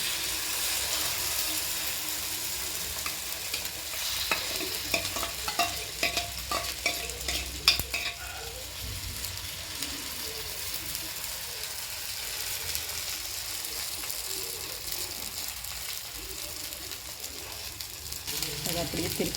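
Noodle omelette batter fries on a hot oiled griddle with a low, steady sizzle, broken by scraping and stirring sounds early on, close and fairly quiet.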